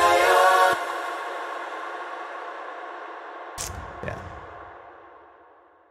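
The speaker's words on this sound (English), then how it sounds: "that's the sound of the reverb that I've got" A Valhalla concert hall reverb with boosted highs rings out as a bright, hissy wash after a sound cuts off, slowly fading over several seconds with a couple of faint brief hits inside the tail.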